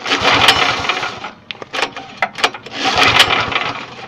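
A log splitter's small engine is pull-started with the choke on, giving repeated bursts of cranking and sputtering that rise and fall without catching, close and loud.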